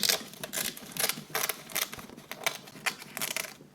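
Scissors snip through a folded sheet of seaweed for spam musubi, a rapid series of crisp close crunching cuts in quick irregular bursts.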